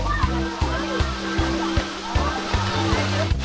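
Water from the Kroeng Krawia waterfall stream rushes steadily nearby, with voices talking over the flow and regular clicking thumps along the way.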